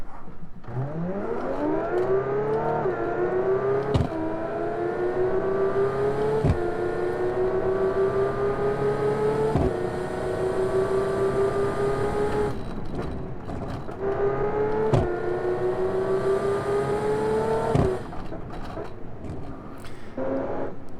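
A V12 car engine in BeamNG.drive revs up in long rising sweeps, climbing in pitch, briefly dropping, then climbing again, loud and steady with no talk over it.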